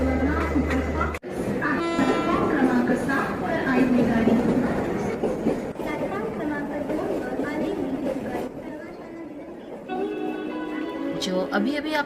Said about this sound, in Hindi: जो अभी अभी आपने देखा वो था मेरे सुंदर से थाने शहर का सुंदर सा रेलवे स्टेशन